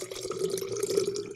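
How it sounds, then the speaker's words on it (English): Water pours from a jug in a brief burst of splashing and trickling, close and fairly loud, with no talk. "Do you guys want some water ASMR real quick?"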